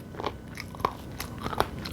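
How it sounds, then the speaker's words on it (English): Raw abalone sashimi crunches between the teeth in a few sharp, close bites over two seconds, with soft chewing in between. "I like the end parts because these are more crunchy."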